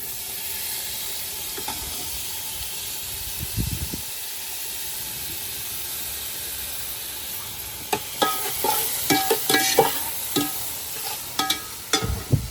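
Ginger garlic paste and tomato frying with onions in a pan for chicken salna give a steady sizzle with a constant steamy hiss. Scraping and stirring clatters cluster near the end, with no voices.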